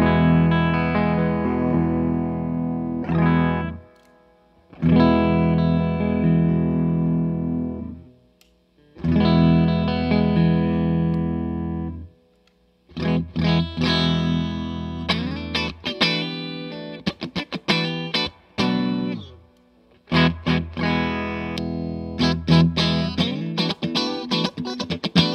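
Electric guitar played through a drive effect, with sustained chords that swell up and cut off, followed by choppy stuttering bursts, loud and alone.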